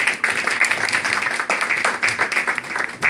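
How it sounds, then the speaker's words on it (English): Applause from an audience at a networking group skills workshop in a park, a dense steady patter of clapping that carries on throughout without a pause. "Give him a round of applause."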